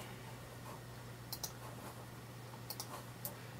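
Faint, sharp computer mouse clicks during work on a film poster in design software, a few isolated single and double clicks over a quiet room hum.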